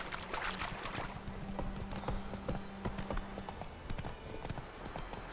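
Roach, Geralt's horse in The Witcher 3 video game, trots at a steady, even pace, hooves clip-clopping softly and rhythmically over a faint background ambience.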